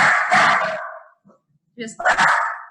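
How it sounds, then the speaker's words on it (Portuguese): Two bursts of loud, close dog barking, a pair of sharp barks, a pause, then another quick volley. "2 cachorros aqui, pessoal, que às vezes podem dar uma latidinha."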